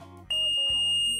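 Minitor pager emitting a sharp, piercing electronic beep in test mode, a sustained high tone layered over lower buzzing tones, brief and close.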